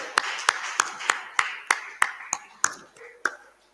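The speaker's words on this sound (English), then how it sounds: "let's give them a resounding round of applause" Steady, evenly spaced claps ring out about three per second at Children's Day celebrations of a stakeholders forum, with a voice talking over them.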